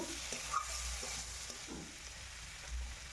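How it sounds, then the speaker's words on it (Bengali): Spices sauté in a pan over medium heat for a fish curry, a faint steady sizzle and frying hiss with soft stirring scrapes and no talk. "তারপর আবারও মশলাগুলি খুব ভালো করে কষাবো আর এই সময় কিন্তু উনুনের আঁচটি মিডিয়াম রাখতে হবে"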